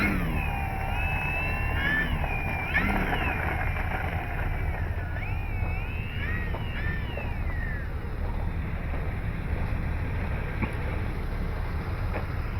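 A Dynam Waco RC model biplane's electric motor whines up through rising and falling pitch sweeps as it takes off, heard at a distance over steady wind noise on the microphone.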